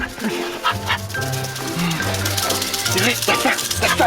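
A dog yips and whimpers in short high bursts amid a busy, noisy background, with people talking nearby.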